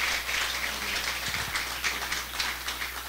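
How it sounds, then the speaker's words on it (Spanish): Wedding guests applaud during the ceremony for the groom, Héctor, a steady dense wash of clapping that carries through the whole stretch, with a brief low thump partway in. "Por favor, fuertes aplausos para él."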